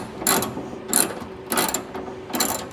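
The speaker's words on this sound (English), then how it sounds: "take my 12 millimeter socket and go about tightening up the" Close, crisp ratcheting from a ratchet with a 12 mm socket tightening a bolt on a Toyota Tacoma ditch light bracket kit, in four short clicking bursts with brief pauses between them.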